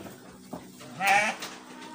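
A Garut sheep bleats once, fairly close, inside a long livestock pen among other sheep and goats, amid quiet background noise with no talk over it.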